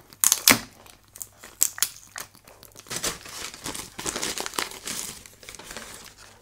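Plastic parcel packaging bags crinkle and tear as they are unpacked, a close series of sharp rustling crackles and crumples in irregular bursts with brief pauses, no voices.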